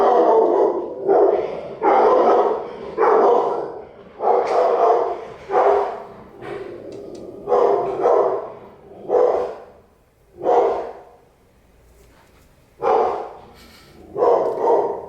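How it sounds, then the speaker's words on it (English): A dog growls and barks at a delivery man at the door, giving repeated loud bursts of barking in an irregular rhythm, close up, with short pauses between volleys. "Scout, who you growling at? FedEx man's here."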